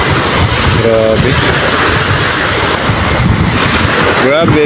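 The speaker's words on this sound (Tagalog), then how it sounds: "Grabe. Malakas ng hangin." Strong wind roars and buffets the microphone continuously, with a brief voice heard faintly under the gusts.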